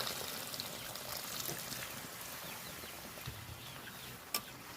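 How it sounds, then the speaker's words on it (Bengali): Water is poured into a pot of simmering free-range chicken curry with potatoes, a steady soft trickling stream lasting several seconds, with a faint clink near the end. "দিয়ে দিলাম জল পরিমাণ মতো জল দিয়ে দেবো"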